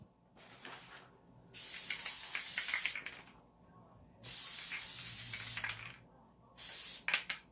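An aerosol can sprays in three long, loud hissing bursts separated by brief pauses, close up with faint handling noises between.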